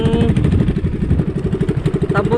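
A motorcycle engine runs again after water got into its exhaust, a close, steady, slightly clattering idle with rapid regular pulses for a couple of seconds.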